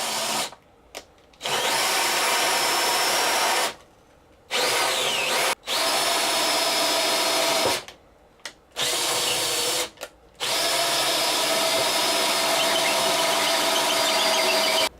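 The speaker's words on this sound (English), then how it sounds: "I'm going to use a 1 1/8 inch hole saw. And that just attaches to the end of the drill." A drill fitted with a 1 1/8 inch hole saw grinds and squeals through a panel in several loud bursts of a few seconds each, separated by short pauses of silence.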